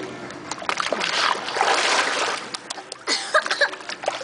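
A child dunks their head into water while bathing, making a burst of close splashing and sloshing followed by a few smaller, choppier splashes, with faint voices nearby.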